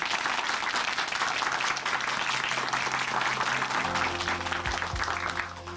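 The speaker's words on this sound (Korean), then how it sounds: "오늘 귀한 간증 전해주신 김찬 형제님께 다시 한번 박수 보내드릴게요." Church congregation at Chuncheon Hanmaeum Church applauding after a testimony, dense sustained clapping filling the room at steady volume, with a low musical hum entering near the end.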